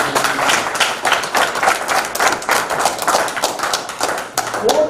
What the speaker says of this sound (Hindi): इसके लिए तो ताली बजनी चाहिए